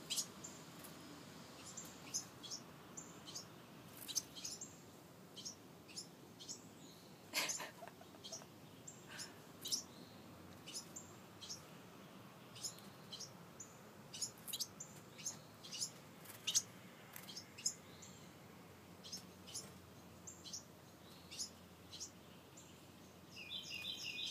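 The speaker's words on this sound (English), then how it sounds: "Oh, there's another baby bird. They're all flying out of the nest." Baby birds and a parent bird chirp around a nest outdoors, giving rapid, high, thin tweets in irregular bursts throughout, with no talking.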